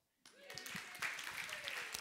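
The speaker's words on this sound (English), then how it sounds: "Round of applause." A room of listeners at a talk on brainstorming breaks into a round of applause, clapping starting abruptly and continuing steadily, with a voice faintly heard over it.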